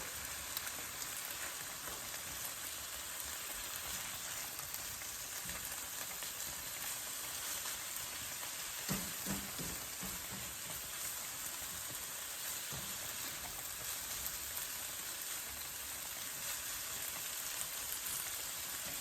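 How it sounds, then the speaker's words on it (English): Loaded pasta ingredients sizzling in a pan while cooking, a faint, steady crackling hiss that runs continuously, with a few soft clinks partway through and no talking. "you can tell that these are definitely cooking. They're still sizzling"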